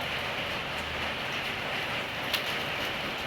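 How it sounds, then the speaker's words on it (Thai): Rain falls steadily outdoors near a rabbit enclosure, an even, moderate wash of hiss throughout with one faint tap, no talking. "เนี่ยฝนก็ตก"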